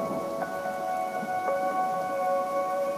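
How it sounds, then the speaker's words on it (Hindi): Steady heavy rain pouring at night in a forest, a constant even hiss with faint scattered drops, moderately loud and unbroken throughout. "बारिश बहुत तेज हो रही है"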